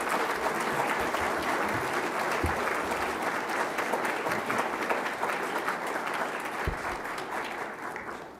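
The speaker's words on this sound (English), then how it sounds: "Let's give them a hearty round of applause" An audience at a conference opening plenary in a hotel gives sustained applause, a continuous wash of clapping at moderate distance that tapers slightly toward the end.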